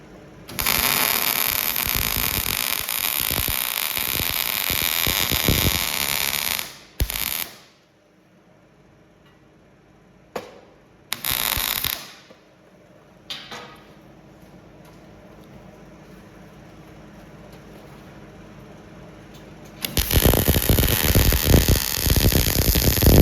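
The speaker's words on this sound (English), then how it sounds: "All right, we're ready to weld." MIG welding of trailer fenders with shielding gas, heard as a steady loud crackling hiss in long bursts, with short stops and starts between welds.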